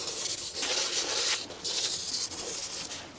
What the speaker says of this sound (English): taking like 800 or 1000 grit sandpaper and just roughing it up on the area where I'm going to apply the tape